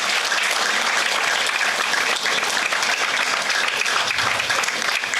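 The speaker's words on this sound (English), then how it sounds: "Big round of applause for Shivaraman." An audience applauds a colleague at a company success meet, with dense, even clapping that stays loud and unbroken throughout and little else over it.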